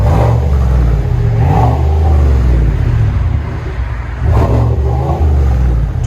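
A 2022 Chevy Silverado RST with a 6.2L V8 and a Flowmaster Super 10 exhaust revs loud and close, a deep steady rumble rising and falling through two throttle swells.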